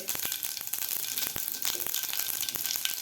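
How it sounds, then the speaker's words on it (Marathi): Mustard seeds and cumin seeds fry in two spoons of hot oil, a steady loud sizzle punctuated by many sharp popping crackles as the seeds burst, close up and without speech. "तेल आपलं गरम झालेलं आहे त्यामध्ये घालायचे आपल्याला अर्धा चमचा मोहरी अर्धा चमचा जिरे"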